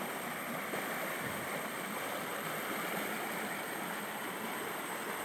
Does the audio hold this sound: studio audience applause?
no